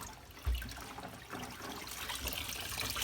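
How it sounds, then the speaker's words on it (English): Running water splashes and trickles steadily from a tap, with a soft thump near the start and sloshing as a leather Coach handbag is rinsed under cool water. "So now we're going to drain this water and rinse under cool water."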